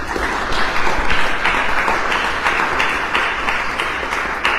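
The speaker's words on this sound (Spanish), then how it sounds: "vamos a brindarle un fuerte aplauso" Audience at a panel discussion on poetry, psychology and the brain applauding steadily, a dense, even patter of many hands clapping throughout, fairly loud with no talk.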